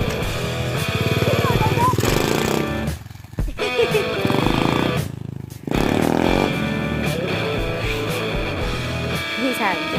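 A motorbike engine revs hard in bursts while the rider pulls wheelies outdoors, a loud close buzzing roar that dips briefly between throttle blips, with voices over it.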